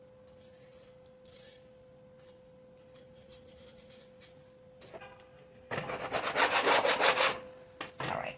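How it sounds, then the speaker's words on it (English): A large cutting tool scrapes moist clay residue off a plate in short rasping strokes, then a longer, louder run of scraping near the end, over a faint steady hum. "I'm just using that same large cutting tool to scrape this residue off"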